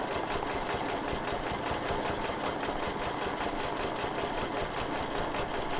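A sewing machine quilting a mandala design, its needle running in a fast, steady mechanical chatter at close range, unbroken and even for the whole stretch with no voices.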